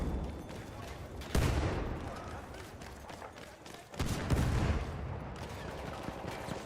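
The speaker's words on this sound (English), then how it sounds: "That's a lot of grenades." Grenade blasts in the shooter game Battlefield 1, two sharp loud bursts a few seconds apart, each trailing into crackling gunfire and rumbling battle noise.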